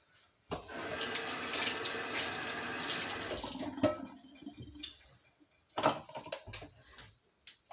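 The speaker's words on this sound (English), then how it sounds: "I'm going to just add a little water to the bottom of the pan" Water poured from a tap into the bottom of a baking pan of oven-baked BBQ ribs, a splashing stream for a few seconds followed by scattered drips and light clinks.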